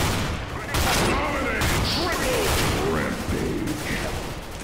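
Shotgun blasts with echoing booms in the video game Counter-Strike, several loud shots spread over a few seconds against a busy background of game noise, with no voice heard.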